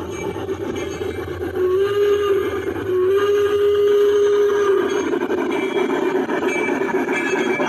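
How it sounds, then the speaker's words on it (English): An unweathered model Shay locomotive on a finescale layout runs past nearby with a steady mechanical rumble and chuffing. A rising whine threads through it as it goes by, continuous and fairly loud. "unweathered Shea locomotive coming by"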